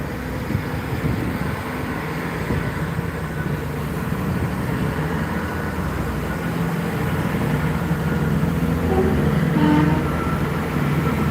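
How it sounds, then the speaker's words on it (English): A Class 166 diesel train rumbles steadily as it pulls away in Gloucester, a loud, continuous low engine drone with rolling rail noise and no voices. "heard horns from the train, from the class 166 as it leaves"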